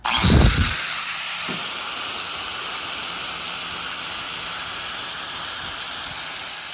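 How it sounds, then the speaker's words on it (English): An angle grinder grinds down a metal lip on a Honda Civic EK, a constant loud high whine and hiss after a short rumbling start. "I'm gonna grind a little bit of this lip down"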